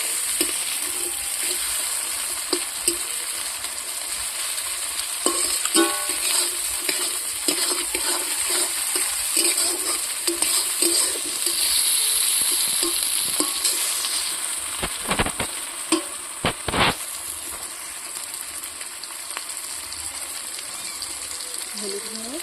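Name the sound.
stir-frying ginger garlic paste for fish curry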